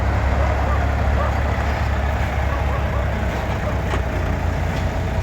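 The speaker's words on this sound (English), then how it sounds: "Here come a couple of boys with the tractors on the lorry." A heavy lorry carrying tractors rumbles close by at a steam rally with a steady low engine drone, loud and continuous, while voices talk faintly beneath it.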